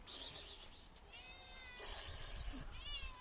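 A cat gives a couple of short, faint meows over fish scraps against quiet background noise.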